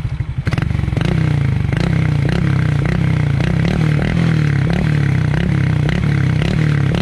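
A Raider J 115 FI motorcycle fitted with an Apido aftermarket exhaust pipe revs up from idle. Close and loud, it pulses in steady, throaty bursts of throttle and carries a faint metallic clatter.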